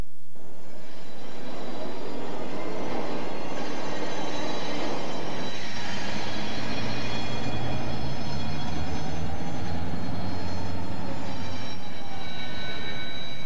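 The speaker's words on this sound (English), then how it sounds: "Our train has arrived" A New Hampshire Northcoast Railroad freight train rolls in, a loud continuous rumble of wheels and cars close by, with high metallic wheel squeal ringing throughout as it arrives.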